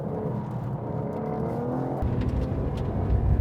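A 2021 BMW M4 Competition engine drones and builds as the rear slides out, a loud, steady mechanical roar that deepens and rises in intensity toward the end.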